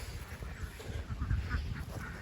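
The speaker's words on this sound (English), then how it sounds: "Some ducks are just enjoying the weather." Ducks on a small homestead farm quack and honk softly in winter weather, a faint, continuous flock chatter heard from a short distance with outdoor background noise.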